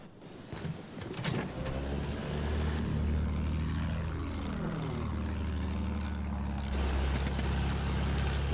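A propeller warplane in Battlefield 1 roars loudly and continuously, its engine pitch sweeping down and back up as it maneuvers, with no talk.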